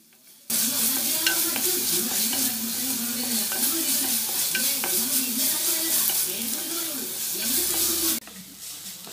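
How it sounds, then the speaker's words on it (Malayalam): Seer fish (neymeen) fries in a pan while being stirred, making a loud continuous sizzle with scraping strokes for about eight seconds before it stops suddenly, close up and with no talking. "ഇത് ചെറുതായിട്ടൊന്ന് വാടണ വരെ ഒന്ന് ഇളക്കി കൊടുക്കാം"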